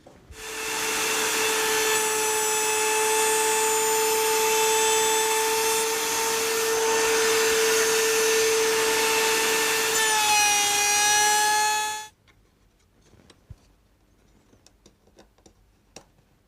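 A power tool cuts wood while making a box, adjusted to take about another half millimetre of depth. A loud, steady tonal whine runs for about twelve seconds, dips in pitch near the end, then stops, leaving faint handling clicks.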